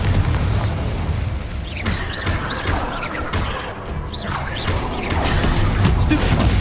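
Confringo blasting spells go off during a Hogwarts Legacy battle, deep booming explosions and crashing impacts layered over continuous loud rumbling combat noise, with sharp bursts repeating throughout.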